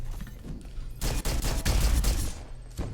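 An automated turret in the Aliens roguelite game fires a fast, loud burst of rapid shots lasting over a second, set against quieter ambient game noise.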